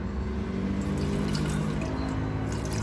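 Water pours steadily into a Kyowa KW-1364 1500-watt electric kettle, a continuous close splashing stream with no voices.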